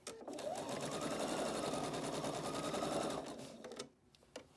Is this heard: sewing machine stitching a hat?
yes